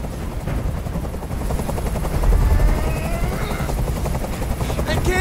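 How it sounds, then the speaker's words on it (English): Helicopter from the video game Detroit: Become Human hovering close overhead during a hostage standoff, a loud continuous rotor thump and engine whine that swells briefly midway, with faint voices beneath. "Tell that helicopter to get out of here!"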